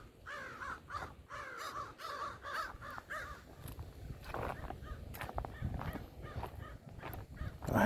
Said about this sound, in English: I do like the sound of the crows.